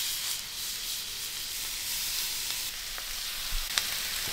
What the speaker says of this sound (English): Hear that sizzle, Alicia?